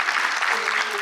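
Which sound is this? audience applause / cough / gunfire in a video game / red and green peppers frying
audience applause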